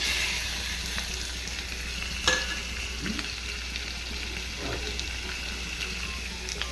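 Liver tossed into a pan of reddish-browned fried onions crackles in a continuous, even sizzle, with a few scrapes and clinks of stirring, close and moderately loud, no talking.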